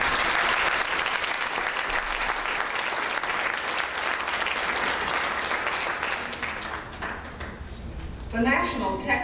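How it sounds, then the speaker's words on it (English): Sustained applause from an audience at a school honors day program, dense and steady for most of the clip before thinning out, with a voice starting to talk at the very end. "Let's give them another round of applause"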